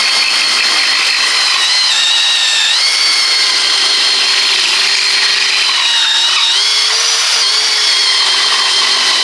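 Parkside 20V cordless drill driver, model PABSP 20 Li C4, running continuously with a loud high motor whine that shifts pitch slightly a few times as the speed changes.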